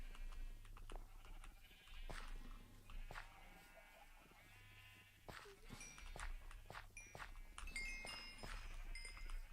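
Sheep bleat in the Minecraft video game, several short wavering bleats over soft game ambience and footsteps, faint overall.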